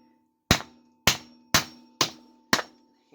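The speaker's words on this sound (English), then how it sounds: "Take a piece of wood and a hammer." A hammer strikes a wood block to drive a 1-inch threaded Tange-Seiki Passage bicycle headset cup into the frame, giving five sharp, evenly spaced knocks about half a second apart, close and loud with no talking.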